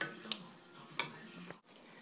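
Sun-dried tomatoes are stirred into a lentil mix sizzling in a pan: a faint low sizzle with three sharp scraping clicks from the stirring, spaced unevenly, then a brief drop to near silence.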